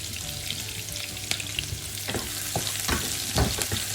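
Onion and ginger sizzle steadily in a hot pan, a continuous frying hiss broken by sharp stirring scrapes and clacks of a utensil, close and fairly loud with no talk.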